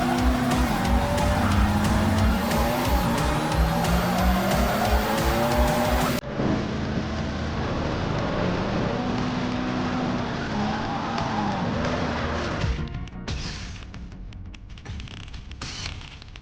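Cars drift in a racing video game, engines revving hard with repeated long tire squeals, loud and close, before the scene cuts to another car sliding with more squealing.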